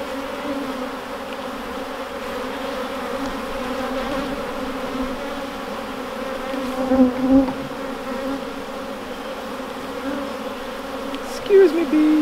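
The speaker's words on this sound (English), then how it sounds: "Excuse me, bees." Honey bees buzzing around an opened hive, a continuous mid-pitched drone with a few closer passes of individual bees swelling briefly louder, no talk.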